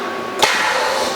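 The tool changer on a Tormach 1100MX mill strikes the spindle nut with a single sharp metallic knock over a steady machine hum.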